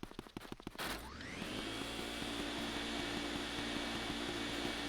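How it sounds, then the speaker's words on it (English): Luigi's Mansion vacuum running in the video game, a deep, steady droning roar that starts after a second of choppy clicks and then holds loud and constant to the end. "deep like noise from the vacuum"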